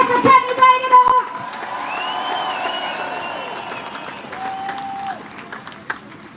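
A crowd at a London farming rally cheers and applauds for a politician, a dense sustained roar of clapping and whoops, loudest at the start and then holding steady with a voice heard briefly near the end.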